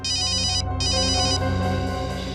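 A telephone rings with a rapid electronic trill in a TV crime drama, two bursts separated by a short gap, loud and close over a steady background tone.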